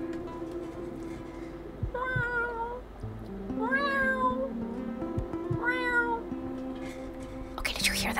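A person whispers meow-like cat imitations, three rising and falling whining calls in a row, soft and close, with quiet murmuring around them.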